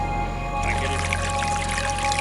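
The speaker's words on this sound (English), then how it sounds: "we do get the occasional trickle." Fresh spring water trickles and splashes in a small steady flow beside a coastal footpath in the Purbeck Hills, a close, continuous bubbling patter over a low background hum.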